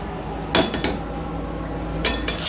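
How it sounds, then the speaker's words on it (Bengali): Cooked, softened spinach is mixed in a pot, heard as a few sharp metallic clinks of a utensil against the pot in two brief clusters over a low steady background hum, close and with no voices. "সমস্তটা আমি ভালো করে মিশিয়ে নেব"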